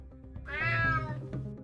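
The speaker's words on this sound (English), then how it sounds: "Damn cat." A cat lets out a single drawn-out meow, fairly close and clear, rising and falling over about half a second against a low background hum, with no talking.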